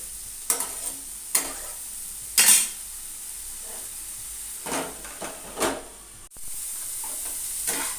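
Gima greens (shak) frying in a pan on a low gas flame, a soft steady sizzle broken by several scraping stirring strokes and a clink of utensil against the pan, close by with no speech.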